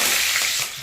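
Curry leaves sizzle and crackle in hot coconut oil with mustard seeds and fenugreek, cooking for a Tamil fish curry. A steady, dense hiss holds loud and close, then eases slightly near the end.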